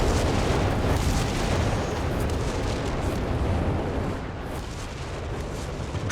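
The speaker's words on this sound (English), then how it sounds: "And more rockets." Rocket barrage pounding the ground in a Company of Heroes 3 4v4 battle, a dense continuous roar of overlapping explosions and rumbling impacts that eases slightly toward the end.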